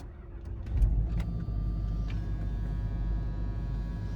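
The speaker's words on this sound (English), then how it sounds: "Let's turn the engine on." A car engine at idle gives a steady low rumble, with a few brief revs rising over it, close by and without speech.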